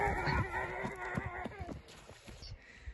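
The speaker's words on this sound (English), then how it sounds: "Oh, The ducks." Ducks quacking outdoors near mountains in a rainy forest, a burst of loud honking calls up close that thins out into scattered fainter quacks.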